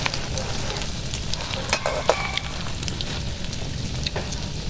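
Corned beef sizzles and crackles in a pan during outdoor cooking, a dense, continuous frying hiss with occasional louder pops and stirring scrapes, no talking.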